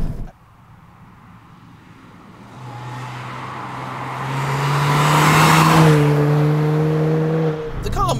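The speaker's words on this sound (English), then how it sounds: "The car makes actually a really nice sound." A supercharged R53 Mini Cooper S JCW hatchback pulls hard as it drives past, its engine note rising and swelling to a loud peak before easing off near the end.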